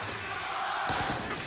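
A VALORANT Champions esports arena crowd roars and cheers during a DRX vs LOUD match, a loud surging wash that swells partway through.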